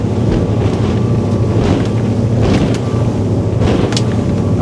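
A Windy 29 Huracan motor boat runs at about 42 knots, with a steady loud roar of engine and rushing water and heavy wind buffeting the microphone throughout.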